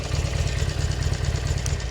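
Motorcycle engine idling steadily after starting on the first press of the button, a close, even low rumble with a fast regular pulse and some mechanical clatter.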